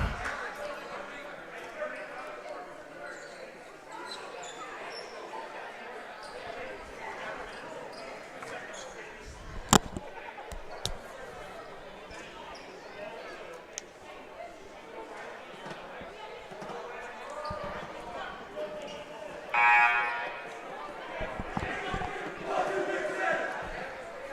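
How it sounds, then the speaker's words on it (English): Bench and crowd noise at a high school varsity boys basketball game, Crosspointe vs Suburban, a murmuring gym with occasional shouts and ball bounces, a commentator talking over it and a louder cheer near the end. "you can hear the excitement from the bench and from the crowd here from the right of me"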